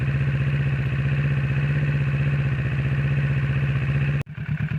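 A warmed-up Kawasaki Z650 idles steadily after an oil change, with a close, even, rhythmic engine putter. It briefly dips near the end and then resumes.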